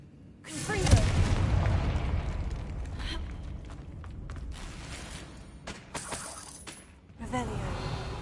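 A Confringo fire spell explodes in the video game Hogwarts Legacy: one loud booming blast with a crackling burst, followed by a rumbling tail and a second swell near the end, under game ambience.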